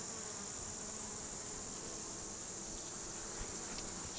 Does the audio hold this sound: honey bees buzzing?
yes